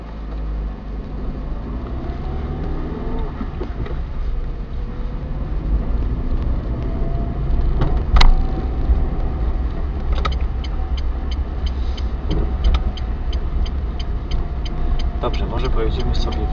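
A car on a driving test route in Kraków, on Nowohucka Street, pulls away with a steady engine and road hum that rises slightly, with a faint ticking near the end and occasional talk inside the cabin.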